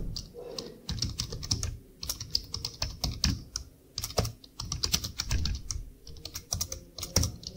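Typing a C program for a matrix transpose on a computer keyboard: quick irregular key clicks and clacks in bursts, close and moderately quiet, with no voices.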